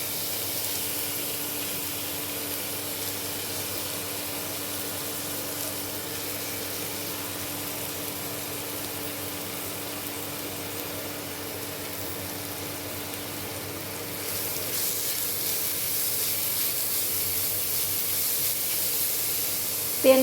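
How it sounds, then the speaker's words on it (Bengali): Chopped carrot and potato frying in a small amount of white oil give a steady, even hiss that runs throughout and grows a little louder toward the end, with no one speaking. "এবার এর মধ্যে আমি গাজর কুচিটা আর আলু কুচিটাকে দিয়ে দেব।"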